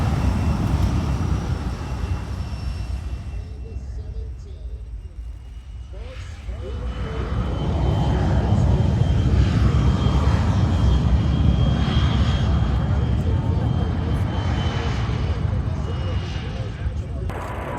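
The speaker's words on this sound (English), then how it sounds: "the full height show demo of the MiG-17F fighter jet with its amazing fire and afterburner" MiG-17F fighter jet performing a full-height airshow demo with afterburner, a loud continuous roar that swells and sustains as it passes, with broadband rumble and crowd or announcer voices faintly underneath.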